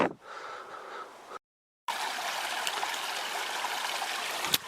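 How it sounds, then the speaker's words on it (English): A small stream in the wild near Loch Lomond, Scotland, gives a steady, close broadband rush of flowing water that runs unbroken apart from a brief gap, with no talk. "This little stream."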